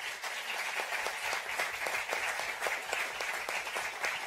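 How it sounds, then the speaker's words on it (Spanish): Steady audience applause for speakers at an international real estate seminar, a dense, even wash of many hands clapping that holds at the same level for the full stretch, with no talking over it. "Y les pido para ellos un caluroso aplauso."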